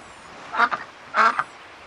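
A cartoon duck quacks twice in the I Spy Treasure Hunt PC game, two short nasal quacks close and clear against near silence.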